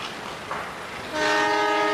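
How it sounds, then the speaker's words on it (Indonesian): A CC206 toy train runs on its rails, a steady rolling rumble that swells into a louder, tonal horn-like sound near the end, with no voices. "CC206 sudah melaju teman-teman. Wow, melaju sangat cepat teman-teman."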